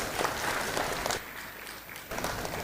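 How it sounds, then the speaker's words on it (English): Audience applause at a management institute's annual convocation, a dense steady patter of many hands clapping with brief swells, lasting under three seconds. "Please give him a big round of applause."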